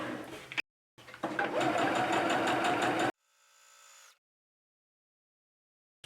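A sewing machine stitches gauze fabric in two runs, first a short burst and then a longer steady whirring hum, close by, followed by a softer winding-down whir and silence.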